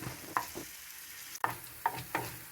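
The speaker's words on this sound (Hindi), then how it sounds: "ये मैं फ्राई कर रही हूँ" Masala spices dry-fry in a kadahi, a faint background sizzle punctuated by several sharp scraping clacks as the spoon stirs against the metal pan.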